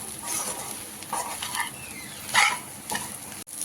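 Ginger garlic paste fries in a pan with a light, uneven sizzle and occasional stirring scrapes, while a dog barks a few times in the background.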